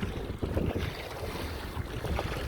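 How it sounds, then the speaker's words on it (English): Wind buffeting a microphone outdoors, a continuous loud rumbling roar with gusty surges and no voices. "We're a bit windy today, viewers"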